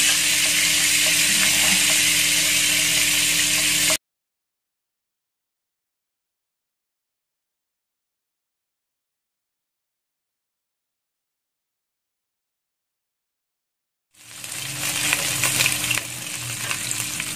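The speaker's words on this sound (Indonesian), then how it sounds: "Lalu iganya akan kita goreng dengan campuran mentega dan minyak ini ya, yang kita asap." Smoked beef ribs frying in a mixture of butter and oil make a loud, dense sizzle close up, cut off for about ten seconds of silence before the crackling hiss returns, with no talk.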